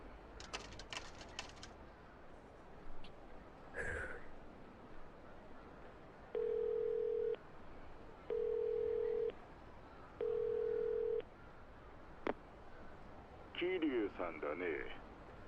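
A telephone at a phone booth save point in Yakuza 0 gives three evenly spaced, steady electronic tones, each about a second long, over game background noise, clicks and a brief voice-like burst near the end.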